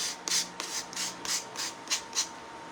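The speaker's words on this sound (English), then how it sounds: "this sandpaper is so fine" Fine sandpaper rubbed by hand over a rusty metal star shim craft piece in quick, soft rasping strokes, about eight short scratches in a steady rhythm, faint and close with no voices.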